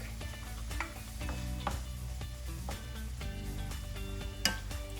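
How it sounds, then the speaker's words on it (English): Red onions sizzle steadily in a hot pan, a constant frying hiss broken by scraping stirs and clinks of a utensil against the pan, with one sharper knock near the end. "put our red onions and cook them for about a minute"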